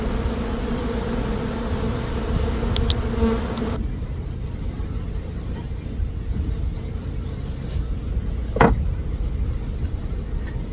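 Honeybees swarm and buzz around a beehive during a summer nectar dearth, a steady close insect drone that is louder and denser at first, then thins to a softer continuous hum with one brief loud pass of a single bee.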